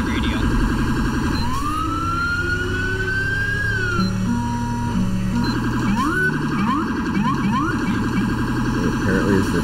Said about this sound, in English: Apparently it's the smart siren now.